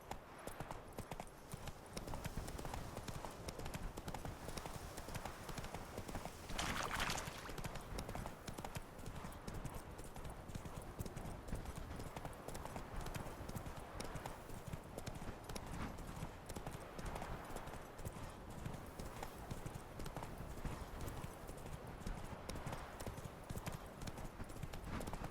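Roach the horse trots steadily through The Witcher 3, a continuous rhythmic clip-clop of hooves that runs the whole time under game ambience, with one brief brighter burst partway through.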